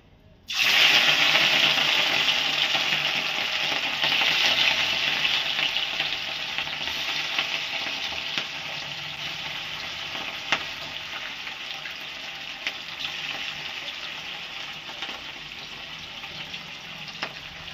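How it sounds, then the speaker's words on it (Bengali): Fish frying in a home kitchen pan, a steady loud oil sizzle and crackle that runs throughout, with occasional stirring and faint sharp pops, gradually easing slightly in intensity. "দেখুন আমার মাছটা ভাজা হয়ে গেছে"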